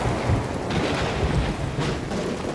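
Rain pours over a forest campsite at night while thunder rolls in a deep, continuous rumble, a dense loud wash of storm noise with no voices.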